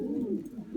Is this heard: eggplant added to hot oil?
no